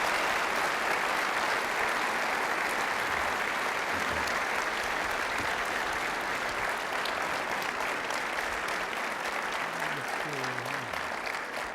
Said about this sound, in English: Let's give him a big round of applause.